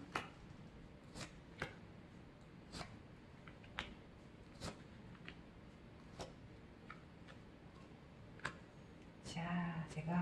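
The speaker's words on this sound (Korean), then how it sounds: "제가 카드를 모아보았습니다" Tarot cards being gathered and shuffled at a table, with a series of soft, close, irregular snaps and taps spaced about a second apart, and a brief rustling flurry near the end.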